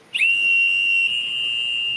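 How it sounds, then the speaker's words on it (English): A loud machine-style safety whistle with a two-mile range blasts as one sustained, piercing high tone, starting sharply and holding steady for about two seconds. "none of these is as loud as the machine whistle, which has a 2-mile range and even works underwater"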